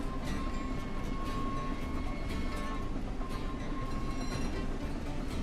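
Train rolling past in the Train Sim World 6 simulator on the Great Western line with a Scotsman steam locomotive, a steady loud rumble and rattle of wheels and carriages throughout, with a faint tonal whine.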